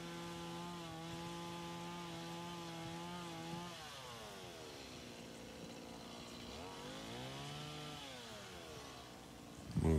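A stock Stihl MS 170 chainsaw scrapes wood while carving a bear, its engine droning steadily and then swooping up and down in pitch as the cut changes, ending in a brief louder clatter.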